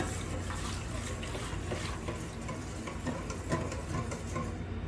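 Water poured from a cup into a bowl of puto batter mix with egg already added, a steady broadband splashing stream running continuously at a moderate, close level.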